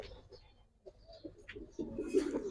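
Giribaz pigeons in a loft giving soft low cooing calls, intermittent at first then swelling into a fuller burst of coos, close and fairly quiet, with faint rustling.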